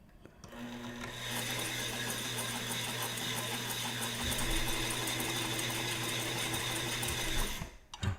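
A used sewing machine with poorly set thread tension whirs steadily as it stitches fabric. The close, continuous mechanical hum starts just after the beginning and cuts off shortly before the end.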